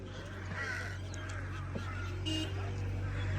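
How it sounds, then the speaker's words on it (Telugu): Crows cawing at Doodpathri, a meadow valley in Kashmir, a few harsh calls rising over steady outdoor background noise with some faint voices. "ఎన్ని కాకులు కాకులు కాకులు"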